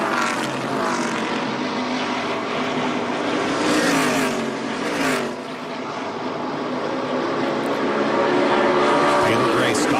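ARCA stock race cars roar around Dover International Speedway, a loud continuous wall of engine noise with pitch swells as cars pass, and a race commentator speaking over it.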